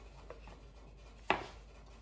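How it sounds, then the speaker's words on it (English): A knife slices the top off a tomato in a kitchen, one short, crisp cut standing out clearly over faint background hum. "we're gonna prepare our tomato. We're gonna cut the top."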